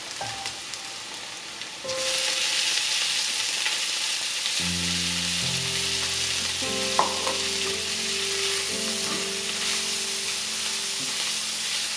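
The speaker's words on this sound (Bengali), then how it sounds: "খুব ভালো করে সাঁতলে নেব।" Tomato mash with chopped coriander sautés in a pan for a Bangladeshi tomato vorta, a loud steady sizzle that jumps up after a quiet start, with stirring scrapes and low tonal hum beneath.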